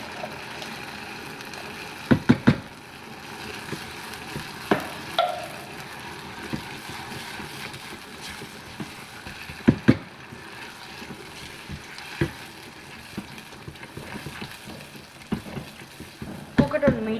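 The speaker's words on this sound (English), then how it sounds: "I'm going to add my tomato puree, thin tomato puree." Thin tomato puree sizzles in a hot pan over a medium flame while a spoon stirs it, with intermittent scraping knocks against the pan and a steady frying hiss; no talk.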